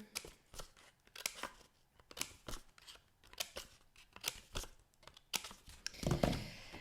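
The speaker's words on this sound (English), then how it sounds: "give it a few little snips all the way around, like so" Scissors snip around a paper cutout while a solargraph pinhole camera is made, a quick run of crisp, close cuts in an uneven rhythm, ending in a soft rustle of paper.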